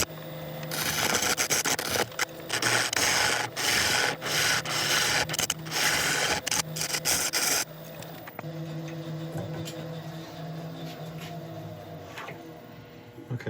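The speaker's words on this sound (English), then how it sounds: "Just going to sharpen up again first." A woodturning gouge is sharpened against a grinding or honing surface with a loud, continuous abrasive rasp for the first half, then a quieter steady hum with light scraping.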